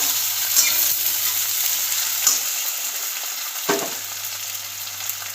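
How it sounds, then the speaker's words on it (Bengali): Onion frying in a pan with bay leaves, cloves and tomato for a chicken curry, a steady close sizzle with a few sharp spatters and stirring scrapes, no talk. "পেঁয়াজটা আমার ভাজা হয়ে গেছে।"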